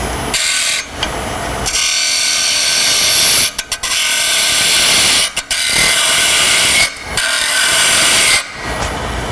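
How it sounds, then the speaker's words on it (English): Gouge taking a pull cut on a spinning wood lathe while turning a lidded box, a loud continuous scraping hiss of steel on wood with a few brief breaks as the tool lifts off. "just take your gouge, pull it over at a 45, and then just do a pull cut"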